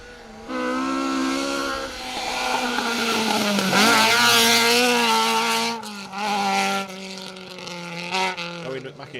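A Ford Escort RS1800 rally car on a forest stage during a rally in 2024, its engine loud and revving hard as it approaches and passes, pitch rising and dipping with gear changes, with a commentator talking over it throughout.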